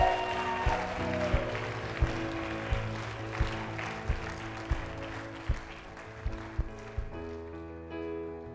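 A church congregation claps and cheers in rhythm, with sharp regular claps over a warm, tonal wash of music and voices.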